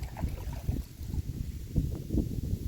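Gusty wind buffets an inflatable kayak, the Primitive One Junior, out on the water, with low rumbling wind noise and faint water movement close around it, no voices.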